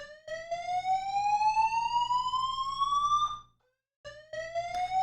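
An apartment fire alarm blares a loud, shrill electronic tone for over three seconds, cuts off briefly, then resumes just as loud, with no one speaking.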